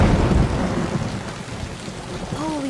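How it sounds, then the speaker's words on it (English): A storm breaking in The Last of Us, a loud low rumble of thunder at the start over heavy rain, with a brief tonal sweep near the end. "Yeah, she knows there's a storm coming."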